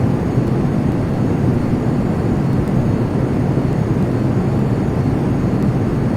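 Jet afterburners roaring on an F-22 in the Prepar3D flight simulator, a loud, dense, steady engine rumble held without a break.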